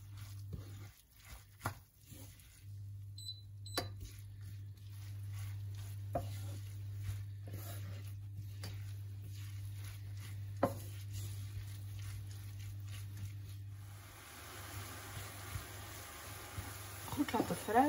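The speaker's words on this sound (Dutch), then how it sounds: "Goed laten fruiten." Red bell pepper sautés in a pan with a soft, continuous sizzle and occasional stirring scrapes, under a steady low hum, with a voice talking throughout.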